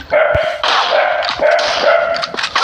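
A dog barks loudly and close by, a run of four or five rapid, harsh barks with a yelping edge, each blending into the next with no voices over them.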